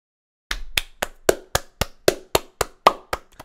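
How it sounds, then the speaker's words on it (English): A single person claps hands in a steady run of about a dozen sharp, evenly spaced claps, close and dry, with no talking. "So I'm just gonna applaud that."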